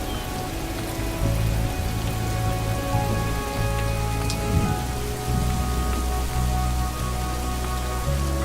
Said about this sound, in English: Five millimeters of rain falls every day for weeks on end.